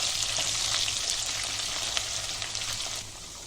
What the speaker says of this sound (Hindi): भिंडी डाल के गरम तेल में फ्राई करके निकालेंगे